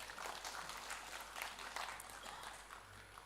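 At a state awards event, a crowd's applause rolls on as a faint, distant, continuous patter of many clapping hands without a clear start or finish.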